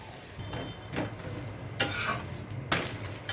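Kerala-style chatti pathiri, a layered roti, cooking on a pan after being flipped, with a low sizzle broken by several scraping and clinking bursts from a utensil, close and quiet with no voices.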